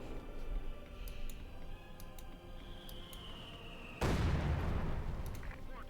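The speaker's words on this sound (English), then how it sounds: "mortar there, not landing further hits here" Mortar fire in the Company of Heroes 2 battle: scattered faint distant ticks and thuds, then one sudden loud explosive impact that leaves a sustained rumble and crackle ringing out afterward.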